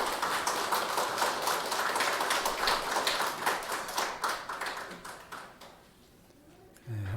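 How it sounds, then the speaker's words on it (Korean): A church congregation claps together in praise during a Sunday worship service, a steady burst of many hands that tapers off toward the end, briefly followed by a low sound right at the close. "우리 하나님께 감사와 영광의 박수 올려드리겠습니다"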